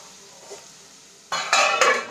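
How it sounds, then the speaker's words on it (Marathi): Tomatoes cook in a pan while a utensil scrapes and stirs, quiet at first and then louder for a few strokes with clinks against the pan, and nobody speaks. "टमाट्याला आपण चांगलं शिजवू घेऊया।"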